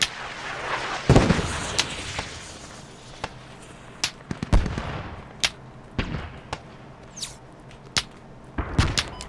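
Squad artillery fire in the game: a string of heavy booming shots and blasts at uneven intervals over several seconds, some sharp and close, others duller and farther off, with no talk.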